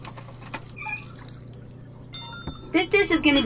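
Water pours into a cup inside the VR game Job Simulator, a short trickling splash rising near the end over a steady electronic hum, with brief synthetic game chimes and speech from a game character heard around it.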